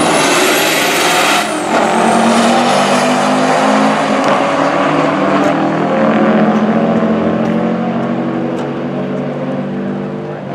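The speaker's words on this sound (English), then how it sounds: "The Corrado is a popular car to drag race." A Volkswagen Corrado at a drag race roars past close by, its engine note sweeping in pitch as it accelerates hard, loud and sustained over several seconds with no voices.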